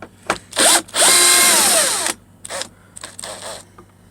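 A cordless drill whirs in short bursts while removing an overhead console in a 2020 Freightliner truck cab, one long high-pitched spin rising and settling, followed by a few brief faint pulses, close up and with no talking.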